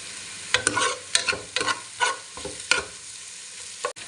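A large heap of onions, then garlic, frying in a pan for Filipino-style spaghetti, with sharp sizzling bursts and scraping stirs coming in uneven strokes, close and loud, ending with a clunk.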